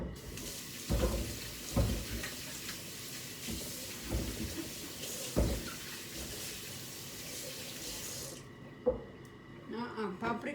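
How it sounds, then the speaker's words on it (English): Paprika peppers rinsed under a running kitchen tap, a steady close splash of water with periodic thumps and knocks as they are handled, ending when the flow stops and a voice speaks. "let me wash the paprika"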